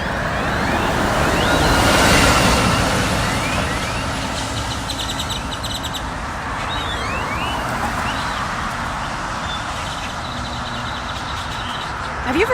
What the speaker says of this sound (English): They're the weirdest sounding birds I've ever heard.